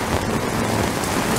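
Heavy rain pours down steadily in the Philippines during a sudden downpour, a dense, loud, unbroken hiss of drops hitting surfaces close by.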